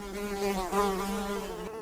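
A housefly buzzes close by, a steady droning hum with a slight wavering pitch, heard alone for a couple of seconds.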